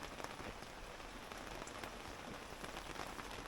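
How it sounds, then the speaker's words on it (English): Steady rain patters densely on a campervan at a campsite in France, a constant even hiss with no voices. "Rain has eased off."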